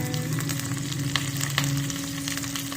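Cumin seeds and curry leaves sizzle steadily in hot oil while a snake gourd and sesame pachadi is cooked, a close, continuous frying crackle with no talking.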